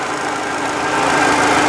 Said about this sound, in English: There's a bit of a noise coming from the front of this engine as well.